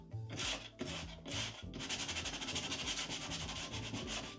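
Sandpaper rubs over a wooden chest being distressed for a weathered finish, a steady close rasping scuff in repeated strokes with brief pauses and background music underneath.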